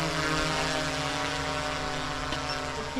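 Drone flying during a night search-and-rescue exercise, a continuous, loud, steady whirring buzz of rotors that holds constant throughout, with no talking.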